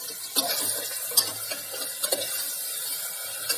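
Mutton with asafoetida is stirred in a cooking pot, with sparse close spoon scrapes and knocks over a faint hissing background.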